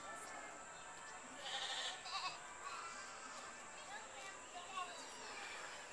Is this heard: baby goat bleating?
yes